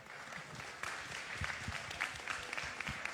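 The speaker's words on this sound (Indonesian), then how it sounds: "berdiri tepuk tangan buat Bapak Ibu yang boleh hadir" A church congregation at a Christmas celebration applauds while standing, a soft, fairly distant patter of clapping with a few sharper claps and low thumps.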